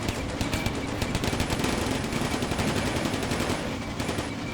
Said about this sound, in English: And artillery is shooting at this target